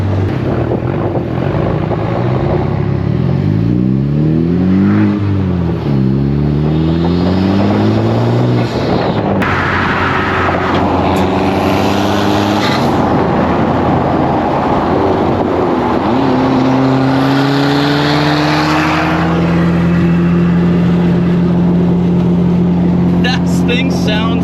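A car engine revs repeatedly nearby, its pitch sweeping up and down in loud surges before holding a steady higher drone.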